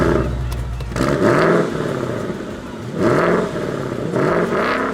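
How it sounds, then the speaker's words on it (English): A Ford Mustang California Special revs its engine in repeated surges, loud and close, with no talk over it. "He's gonna rev it."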